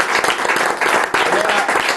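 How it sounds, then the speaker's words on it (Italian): Sports club members in Italy give a steady round of group applause thanking the Polisportiva Tergola volleyball club, loud and continuous with some voices mixed in. "Vuoi partire con l'ultimo applauso di ringraziamento alla Polisportiva Tergola?"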